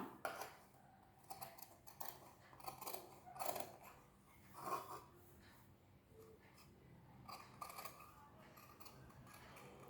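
Scissors snipping through blouse fabric along a curved front-part line, soft repeated crunchy cuts in short bursts, close but quiet, with occasional faint breathing.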